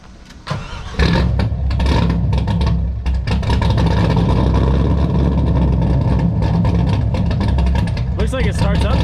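A 2018 Camaro ZL1 with long tube headers and no mufflers cranks and fires up loud and close, settling into a heavy, rumbling idle with a few revs while people talk over it.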